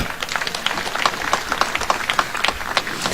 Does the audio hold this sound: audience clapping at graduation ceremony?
yes